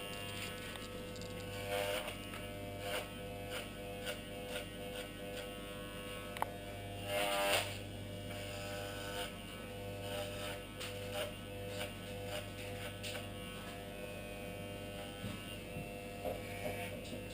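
Electric hair clippers with a number 5 guard buzz continuously while taking excess length off a long neckline, a steady close electric hum with small shifts in tone as the blades move through hair, no talking.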